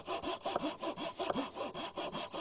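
A hand saw cuts wedges from walnut stock in a steady back-and-forth rhythm, about a dozen close, crisp strokes rasping through the hardwood with no talking.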